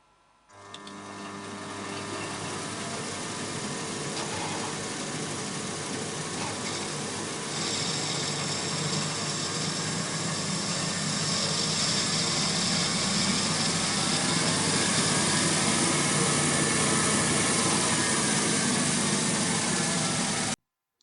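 A CNC lathe spindle starts up and runs steadily for about twenty seconds, a loud continuous mechanical whine and hum that rises slightly in intensity as speed increases, then stops abruptly.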